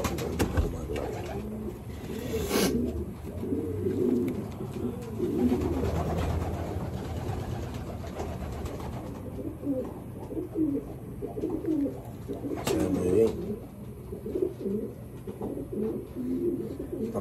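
Pigeons coo repeatedly in soft, rhythmic phrases, the calls fairly close and overlapping against a quiet background hum, with no talking.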